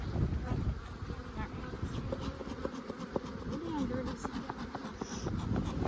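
Honeybees buzz steadily at an open beehive, a dense insect drone that runs throughout, with people talking in the foreground over it.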